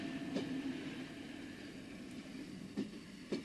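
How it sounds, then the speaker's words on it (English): A train stands in the passing loop at Speen Bridge station on a rural single-track line, its engine idling in a low, steady rumble with a few faint clicks and knocks, heard from a distance. "This train has arrived within the passing loop at a place called Speen Bridge."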